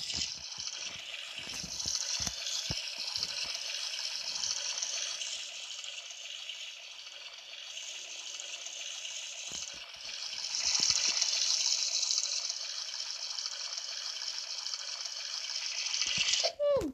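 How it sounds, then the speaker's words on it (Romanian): Running tap water in the Roblox Brookhaven game as a character washes face and teeth, a steady bright gushing stream lasting many seconds, with occasional low thumps and a short tonal blip at the end. "Acum o să merg la baie, mă spăl pe față și pe dinți."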